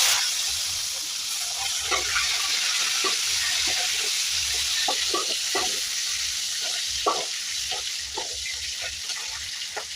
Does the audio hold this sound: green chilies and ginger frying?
yes